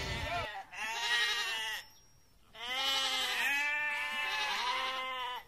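Lambs and goats bleat loudly and close by on a farm, several long wavering cries following one another with a short pause between them.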